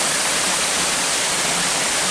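Aycriggs Falls sends a steady, close roar of rushing water over rock, an even broadband wash with no breaks.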